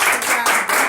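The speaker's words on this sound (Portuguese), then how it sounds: "Uma salva de palmas para Maísa" A short burst of hand clapping for a guest named Maísa on a talk episode. It is loud and close, lasts under a second and has no voices.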